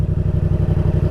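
Motorcycle engine running steadily while the bike is held on a hill using only the clutch and throttle, a loud, close, pulsing mechanical throb with an even beat and no voices.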